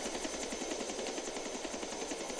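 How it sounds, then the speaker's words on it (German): A helicopter in the video game GTA IV, a loud continuous rapid rotor chop with rhythmic thumping pulses and a dense engine whine, steady and close throughout with no speech. "Jetzt hole ich mir einen Helikopter."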